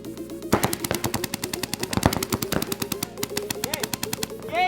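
Rapid bursts of paintball guns firing during a shooting drill at a summer camp, sharp popping shots in quick irregular volleys, fairly close, with scattered voices in the background.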